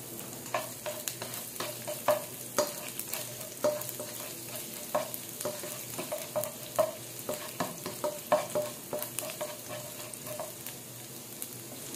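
Garlic fries in hot cooking oil in a wok, a soft steady sizzle punctuated by regular scraping strokes of a spatula, close but quiet, with no voices.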